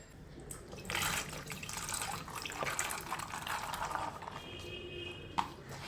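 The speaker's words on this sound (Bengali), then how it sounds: "একটু বেশি করে জল দিয়ে দেবেন সেদ্ধর সময়" Water is poured into a pressure cooker holding peeled white beans: a close splashing, gurgling pour of several seconds that ends with a small knock.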